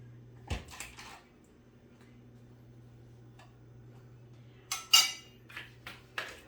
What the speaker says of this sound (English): So I'm going to add 2 spoons of yogurt in here.